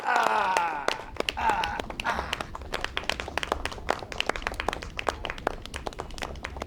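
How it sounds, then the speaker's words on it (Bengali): Audience clapping for a child named Rishabh at a family gathering, a dense run of sharp handclaps that starts under a brief voice and then carries on alone, fairly faint and steady. "আরে জোরে হাততালি আমাদের ঋষভের জন্য"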